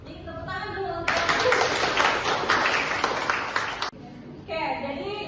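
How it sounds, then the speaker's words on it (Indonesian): Applause breaks out in a university teaching session: a dense, steady burst of many hands clapping lasts about three seconds, loud and close, with speech before and after. "Jadi tepuk tangan dulu."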